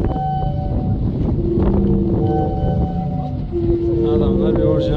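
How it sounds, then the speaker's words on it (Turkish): Sea waves wash against the shore at Zadar, Croatia, with gusting wind buffeting close by and sustained, shifting organ-like tones rising from the water; voices talk faintly in the background. "Burada hep dalga sesi."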